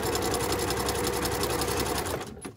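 A sewing machine fitted with a walking foot stitches garment lining in a loud, fast, steady run that stops abruptly near the end.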